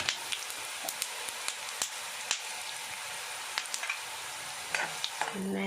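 Masala and coriander fry in a pan for a traditional Tulu Nadu dish, a steady, quiet sizzle with scattered small crackles and pops running throughout, close and unaccompanied by voices.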